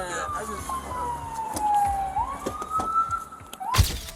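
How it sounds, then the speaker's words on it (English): Emergency siren from an ambulance arriving at a police roadside stop, a single long falling-then-rising wail fairly close by, heard over traffic and background noise, with a sharp burst near the end. "Ambulance is right here."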